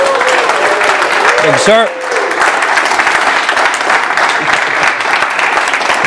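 An audience applauds a speaker and List Kit at a business talk, a loud, sustained clapping crowd throughout, with a voice speaking briefly over it near the start.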